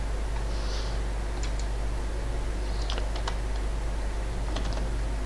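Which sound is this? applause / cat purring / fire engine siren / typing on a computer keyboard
typing on a computer keyboard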